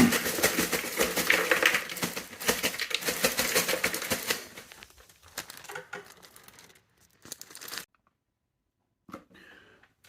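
Ice going into an Aircast cryo cuff cooler, a dense rattling clatter of cubes that thins to sparse clinks and scrapes and then stops in near silence.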